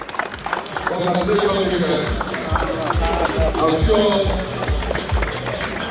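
A crowd claps at a football match between Kwara FA and Supreme Kings FA, a steady rumble of distant clapping and crowd noise under a near voice that talks throughout.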